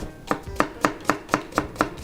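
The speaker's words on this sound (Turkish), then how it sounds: "İlk önce soğanlarımızı çekiyoruz. Çok ince doğranmasına gerek yok." A knife chops onions on a cutting board for oven-baked dentex fish, making about eight evenly spaced, crisp taps in a quick, steady rhythm close by, with no talking.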